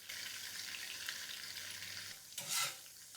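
Butter browning in a pan gives a quiet, steady sizzle with its foam nearly gone, and a brief louder swell of bubbling and stirring near the end.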